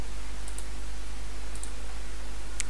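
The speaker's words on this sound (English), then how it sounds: "Right click in here" A few sharp, faint computer mouse clicks, one near the start, one midway and one at the end, over a steady electrical hum.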